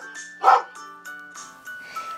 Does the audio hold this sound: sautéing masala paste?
no